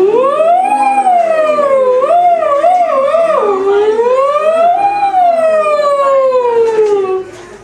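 A voice imitates a siren on a sustained "ng" sound, gliding smoothly up and down in pitch with little wobbles for several seconds before fading out, clear and close.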